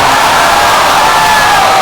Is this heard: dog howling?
no